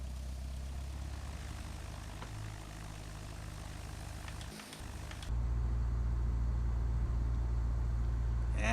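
Cessna 172 Skyhawk propeller engine taxiing onto the runway in a flight simulator game, a steady droning hum that jumps to a louder, fuller engine tone partway through, heard alone.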